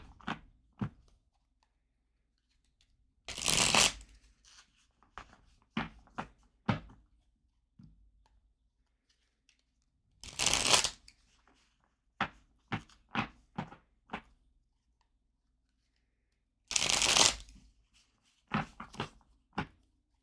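A deck of prediction cards is shuffled in three long riffling bursts, each followed by a run of sharp, close taps and clicks as cards are squared and laid down, with quiet gaps between.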